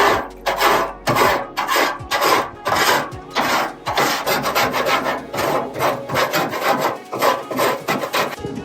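A tool scrapes loose debris off the grates of a Traeger Ironwood XL pellet grill, a close, harsh rasping repeated in quick, steady strokes throughout.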